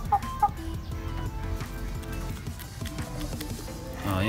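Chicks and young fowl cluck and peep in a room of a rooftop poultry setup, a busy chorus of small calls with a couple of brief sharper chirps near the start, close and steady throughout.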